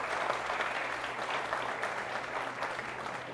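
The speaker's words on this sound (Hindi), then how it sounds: "बहुत सारी तालियां आपकी।" Steady, even audience applause fills the room at a laughter event for senior citizens at LNH, moderately quiet and unbroken, with no one speaking over it.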